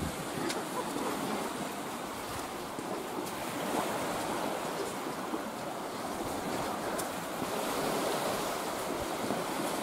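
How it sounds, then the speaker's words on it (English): Sea waves surge and wash onto a concrete shoreline on the coast between Kinnegar and Holywood, a steady loud roar of surf with wind buffeting the microphone throughout and no talking. "The power of the waves."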